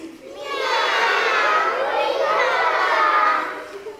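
A group of children answer together with imitated cat meows, a loud drawn-out chorus of voices that swells and fades over several seconds.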